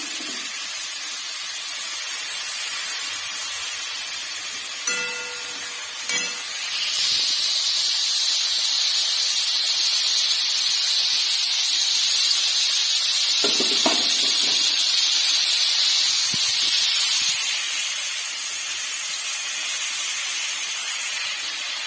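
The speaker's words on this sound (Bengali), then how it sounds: "দেখো আমটা ভাজা হচ্ছে" Raw mango pieces frying in a pan over a gas flame, a steady hiss that swells in the middle stretch and runs unbroken for about ten seconds before easing back to a softer background noise.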